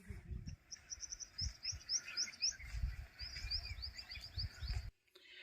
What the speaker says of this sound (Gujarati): અહીંયા બધા પક્ષી ત્યાં અત્યારે છે